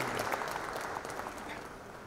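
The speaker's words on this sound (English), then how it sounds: "I think now you can put your hands together, applaud his appreciation." Applause from an audience at a Federation of Telangana Chambers of Commerce and Industry event, a steady, even wash of clapping, mostly alone with only faint talk.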